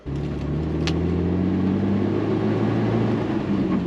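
A car with a 4.0L engine, just back together after a head gasket job, runs steadily on a test drive, its low engine drone and road rumble constant and close from the cabin, with no talk.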